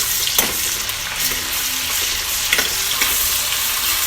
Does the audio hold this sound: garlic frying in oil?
yes